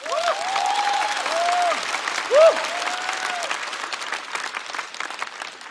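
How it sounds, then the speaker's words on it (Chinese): A studio audience at a stand-up comedy show claps for comedian Hu Lan, a dense sustained applause with a few whoops, while a host's voice carries over the top. "再次掌声送给呼兰。"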